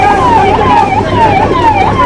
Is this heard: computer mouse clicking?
no